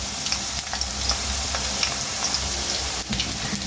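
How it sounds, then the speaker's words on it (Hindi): Thin homemade potato chip slices fry in oil over low heat, a dense close crackling sizzle with tiny popping bubbles, steady throughout with no voices. "ऐसे आप हल्की आंच पे इसको फ्राई करेंगे तो फिर ही जाके खस्ता होंगे"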